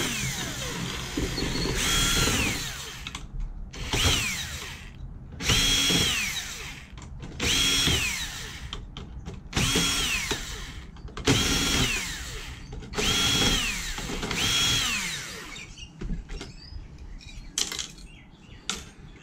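A power drill or driver whirs in repeated short bursts as copper heat sinks are removed from scrap electronics, each burst rising and falling in pitch with brief pauses and faint clicks between, close and loud.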